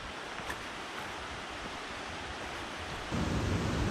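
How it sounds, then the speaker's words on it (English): A cold mountain stream in the Smoky Mountains, along the Roaring Fork trail, rushes over a rocky riverbed. Its broad, steady roar of water stays close and constant and grows slightly louder near the end, with no talk. "It's like a lot of the streams here in the Smoky Mountains. It's got a very rocky riverbed and cold water"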